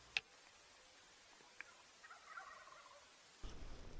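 Rio Grande wild turkeys gobble in Colorado, faint and distant, with a couple of short, sharp calls standing out against a quiet background before a louder rustle near the end.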